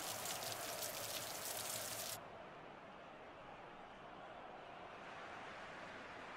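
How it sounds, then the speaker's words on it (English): Rain in a football video game match, a steady hiss of falling drops that sounds louder and brighter at first, then drops to a softer, even patter, alone with no talk. "And rain begins here."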